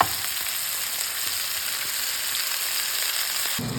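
Meatloaf on a stick fries in a hot pan with a steady, loud, close sizzle that holds evenly throughout, briefly shifting near the end as a piece is turned.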